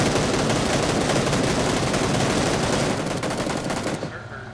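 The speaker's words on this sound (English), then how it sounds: "Shots." Sustained rapid gunfire in the video game PUBG: Battlegrounds, dense overlapping automatic bursts at steady loudness that fade out near the end.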